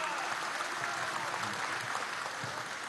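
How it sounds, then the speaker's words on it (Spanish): An audience at a formal political event in Zulia breaks into a big round of applause, dense and steady clapping that fills the whole moment without any clear voice. "un gran aplauso a la memoria histórica"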